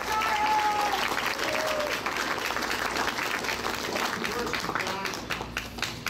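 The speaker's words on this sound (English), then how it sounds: "I'd just like to give an in absentia round of applause for Karl Frauhammer." A roomful of guests at an anniversary dinner and dance breaks into loud applause, steady for several seconds, with voices mixed in, before it thins out and fades toward the end.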